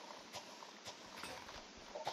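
Horse in the Minecraft video game, light clip-clop hooves in a quick uneven rhythm, faint and close, with no talk over it.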